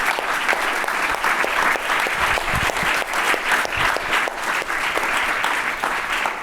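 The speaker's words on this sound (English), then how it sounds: "Give them a round of applause" A conference audience applauds steadily for several seconds at the close of an education event, the dense clapping from many hands filling the room at an even level.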